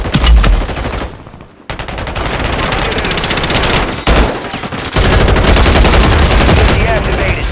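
Gunfire in the video game Warzone 3 on Ashika Island: loud, dense bursts of automatic fire, fast rattling volleys with a short pause near the middle, then sustained shooting to the end.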